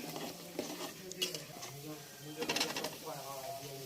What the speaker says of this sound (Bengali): হলুদ মরিচের গুঁড়ো এবং লবণকে একটু ভালো করে কষিয়ে নিচ্ছি।